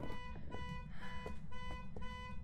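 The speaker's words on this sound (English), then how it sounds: "I hear the car alarm." A car alarm in the horror video game Phasmophobia blares a steady, repeating electronic tone with rhythmic pulses about twice a second, fairly loud and continuous over low background rumble.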